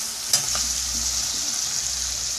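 Sausage fries in a pan with diced tomatoes, cumin, black pepper and salt, giving a steady loud sizzle with a brief scrape of stirring near the start, close up and without talk.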